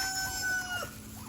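Farm turkeys given parsley scraps call out in a short burst of high, wavering gobble-like calls, close by and fairly loud for about a second.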